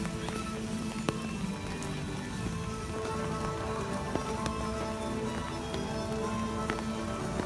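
Steady rain patters on surfaces across the EPCOT theme park, a dense continuous hiss with scattered sharper drops close by.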